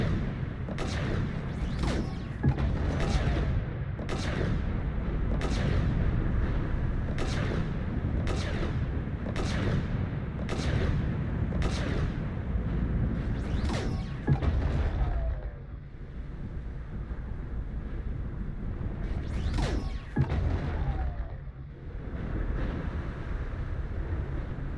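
Repeated gunshots in the video game Risk of Rain 2, a steady run of evenly spaced sharp reports for about fifteen seconds, then a few scattered shots over a rumbling game backdrop.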